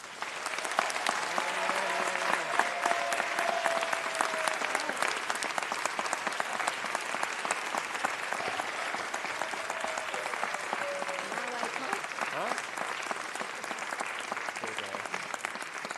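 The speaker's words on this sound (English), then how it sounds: "So please join me in a round of applause for Sidonia." Sustained applause fills a city council meeting chamber in honor of an honoree, even and continuous, with a few faint voices rising briefly underneath.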